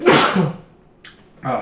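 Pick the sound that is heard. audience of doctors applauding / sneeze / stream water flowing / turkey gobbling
sneeze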